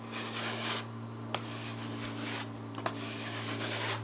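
Finish is rubbed into the open wood grain of an antique Singer treadle sewing machine, a steady close scrubbing with a few small clicks over a low hum, no one speaking.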